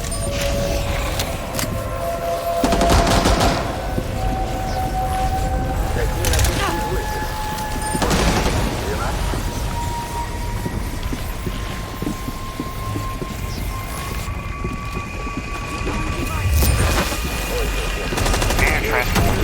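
Sustained automatic gunfire in a Rainbow Six Extraction mission, bursts of shots repeating over about twenty seconds amid game radio chatter and a steady mechanical background, with voices speaking over the action.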